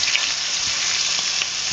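Fish heads fry in hot oil for a gourd and fish ghonto. A steady, close, loud hiss of sizzling runs without a break the whole time, and nobody talks.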